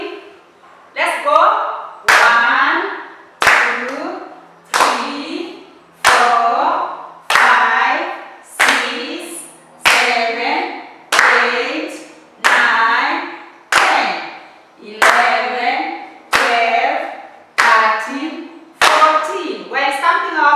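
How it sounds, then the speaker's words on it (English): A class of young children claps in unison while chanting numbers aloud, one sharp clap on each count, fourteen or so evenly spaced beats ringing clearly in a quiet room. "Can you count the numbers while clapping?"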